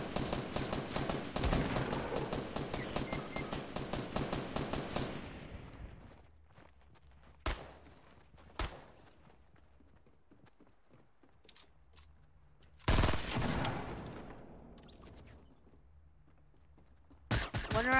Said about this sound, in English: There's a lot of shooting near us.